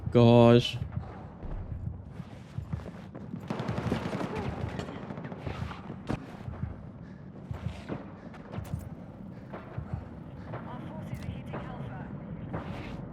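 NVO-228E gunfire in the shooter game Battlefield 6, with a loud burst at the start followed by scattered shots and distant firing, while voices talk over the action throughout.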